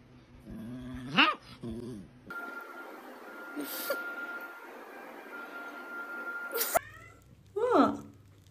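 Cat meowing and yowling in short, loud, close outbursts at the start and end, with growling and whining sounds and quieter noise in between, under people talking.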